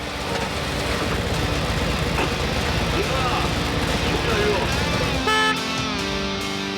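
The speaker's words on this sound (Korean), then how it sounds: "서울을 지키는 웅장한 울림, 기동중대의 모터사이클." Military police motorcycle unit engines rumbling together during a parade drill, a dense continuous roar with a sharper tonal horn-like burst near the end, loud and close.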